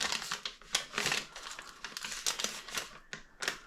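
Plastic packaging on a budget Aldi or Lidl supermarket product is cut open, giving close, busy crinkling and snipping with sharp rustling bursts and no talk.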